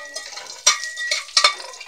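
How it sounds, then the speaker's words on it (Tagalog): Onion, garlic and sun-dried taro leaves for laing sautéing in a pan, with soft stirring and several sharp utensil scrapes and clinks against the pan, close up and with no voices. "Igisa natin sibuyas, bawang. Ilagay na po natin yung ating gabi na laing, yung binilad."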